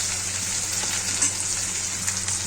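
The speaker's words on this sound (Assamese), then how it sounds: "শুকান মাছ বেছিকৈ নাভাজোঁ অকণমান ভাজিম" Dried fish frying in a pan makes a steady, close, continuous sizzle with faint crackles and no talking.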